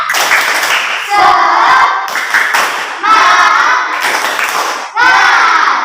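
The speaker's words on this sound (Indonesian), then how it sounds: "tepuk semangat" Students in an Indonesian classroom clap a rhythmic spirit clap in several loud, close bursts with short pauses between them, their voices chanting along with the beat.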